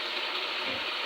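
Water pours steadily into a cooking pot of creamy country-style broth, a continuous bright gushing splash with no voices over it.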